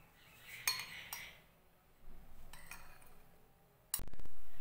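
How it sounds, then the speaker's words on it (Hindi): Egg whites and yolks mixed in a bowl with a spoon: scattered metallic clinks and taps against the bowl, a brief scraping stretch, then a louder clatter near the end, with no talk. "अब इसमें जर्दी डाल के इनको अच्छी तरह से मिक्स करेंगे।"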